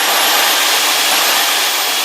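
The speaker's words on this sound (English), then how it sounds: "Pay attention to how loud this puller is" A wire puller runs on a job site, a loud, steady, high-pitched whirring roar with a faint whine drifting above it, constant and unbroken throughout at close range.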